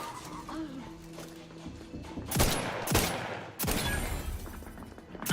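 Enemy sniper gunfire in a video game: several sharp, loud shots crack in quick succession over game background sounds, with a voice speaking briefly.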